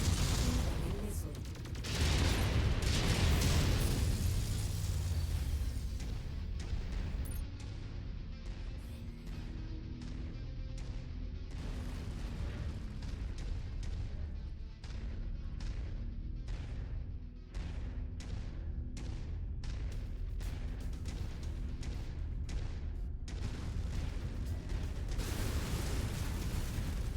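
Missile explosions and heavy weapon fire in a war video game campaign, a dense, loud continuous barrage of booms and cracking blasts with rumbling low end, repeated rapid impacts throughout.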